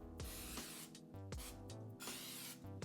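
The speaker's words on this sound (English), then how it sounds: "We're gonna spray it with some cooking spray." Cooking spray hisses out in short bursts onto a preheated cooking surface for waffles, the quiet sprays sitting under steady background music.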